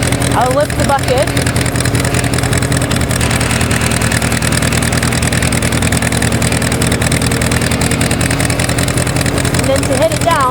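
A tractor idles loudly at close range with a steady engine drone while its front loader bucket is raised, the hydraulic load adding a faint whine over the constant rumble.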